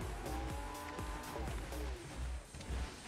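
A car struggles and revs in a Fortnite match, a steady engine drone broken by repeated rising and falling whines like tires spinning, while a voice talks quietly underneath.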